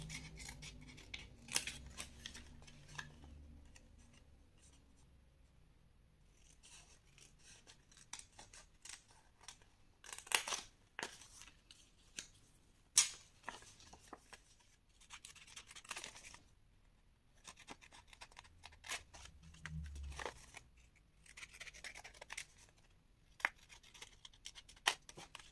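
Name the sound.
scissors cutting paper at an angle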